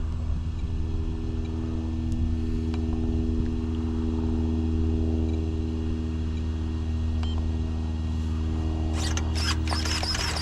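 An Arrma Mojave RC car with a Hobbywing Max6 1650kv motor runs in reverse, giving a steady, continuous electric whine and low hum throughout, with a few brief higher crackles near the end and no talking.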